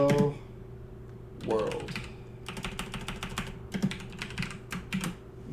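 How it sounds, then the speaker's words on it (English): A short burst of speech opens, then quick, clustered clicks of a computer keyboard as a chat message is typed, close and fairly quiet, with a brief spoken word mixed in partway. "if we go ahead and type a test message"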